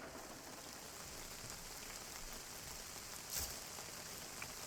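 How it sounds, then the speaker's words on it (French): Light drizzle pattering steadily on a van, a soft even hiss of fine drops with no voices and only a faint louder tick near the end. "Looks like a light drizzle."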